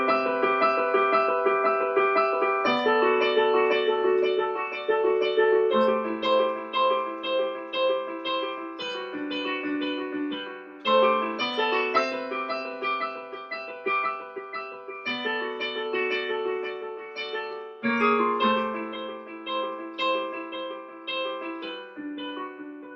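Solo piano plays the intro of a song: slow, full chords with sustained bass notes and melodic figures ringing together, steady and clear throughout with no voice.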